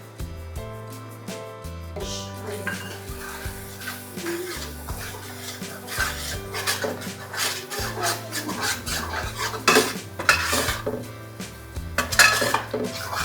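Misal masala is stirred in oil in a pan, a spoon scraping and clinking against the metal in uneven strokes that build in intensity, with a faint sizzle underneath and no talk.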